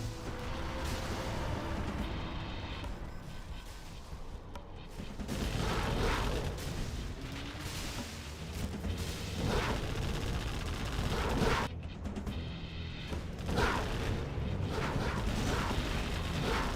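Continuous heavy artillery barrage from an artillery platform in a competitive video game match, a dense rumbling wash of booms and mechanical clatter that stays loud throughout with brief dips.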